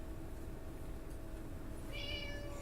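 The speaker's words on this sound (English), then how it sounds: "No, it's a cat!" A cat meows once, a short, faint cry late in the clip over a steady low hum from the room.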